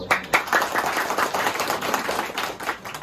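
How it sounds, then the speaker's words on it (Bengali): An audience claps for blood donors at a reception in Khulna. The applause is a dense, steady patter of many hands, close and fairly loud, running unbroken from start to finish. "এইসব রক্ত যোদ্ধা যারা মানবিক যোদ্ধা তাদের জন্য জোরে হাততালি চাই।"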